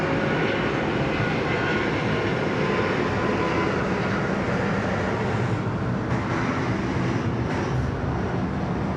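Airliner taking off from Sydney Airport, a broad, steady roar of jet engines filling the air at constant loudness, heard from a distance without talking.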